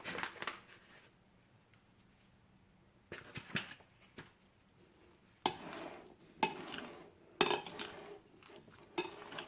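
Vegetable salad ingredients with salt and pepper being stirred in a bowl, heard as irregular clinks and scraping bursts of a utensil, quiet at first and growing busier and louder toward the end.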